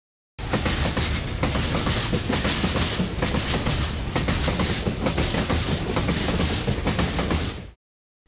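A train rolls across a railroad bridge with a steady, dense rumble and rhythmic clickety-clack of wheels on rails, loud and close, starting abruptly and cutting off after about seven seconds, with no voices.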